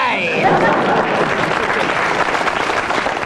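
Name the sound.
studio audience applause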